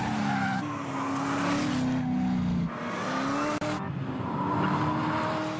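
A Chevrolet Corvette ZR1 sports car driving hard, its loud engine roaring and shifting pitch close by, with tire squeal as it accelerates and brakes, and no talk.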